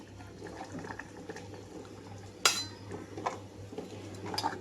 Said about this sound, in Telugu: స్టవ్ ఆఫ్ చేసి సర్వింగ్ బౌల్లోకి తీసుకుంటున్నాను